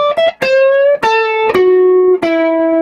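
An electric guitar plays a guitar solo from a song: four sustained, distorted notes played alone, with short slurred slides between the pitches.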